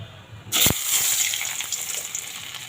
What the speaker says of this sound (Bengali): এখানে তেল দিয়ে দিলাম এখন মাংসর আলুটা ভেজে নেব